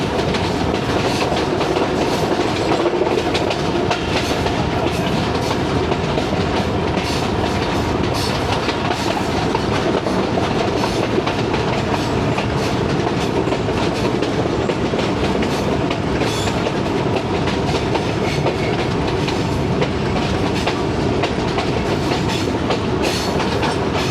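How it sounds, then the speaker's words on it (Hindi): Lasani Express passenger train running on rails and slowing toward a loop line at Kala Khatai, with steady loud rumbling and rhythmic clickety-clack of wagons over the track throughout. "लूप लाइन पर जाने के लिए बिल्कुल ही स्लो कर दी है स्पीड।"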